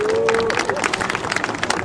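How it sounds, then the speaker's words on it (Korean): Audience applause at an outdoor rally in front of the National Assembly, following the introduction of a committee chair. Dense, steady clapping carries through the full clip with crowd babble underneath and a brief tonal whistle near the start. "박수 부탁드립니다"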